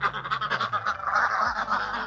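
Pet ducks giving a run of rapid, loud, close nasal quacks and honks, a clustered burst of calls with no talk.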